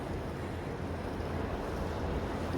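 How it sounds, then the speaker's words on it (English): Oil and water slosh inside a homemade ocean-in-a-bottle, giving a steady, soft, wave-like wash that rolls continuously without clear breaks. "But that's called ocean in a bottle."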